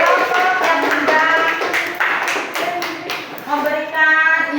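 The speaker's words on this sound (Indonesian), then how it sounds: "Tepuk tangan untuk anak-anak kelompok yang sudah" A classroom of children claps for a group that has just presented, quick uneven claps blending with overlapping young voices close by.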